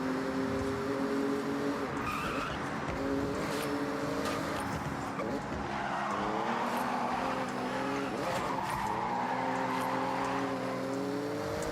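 A Porsche racing flat out through a speed zone in Forza Horizon, its engine whining steadily with rising and falling gear pitches, tires squealing briefly, loud and close throughout.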